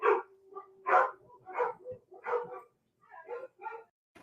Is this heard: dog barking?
yes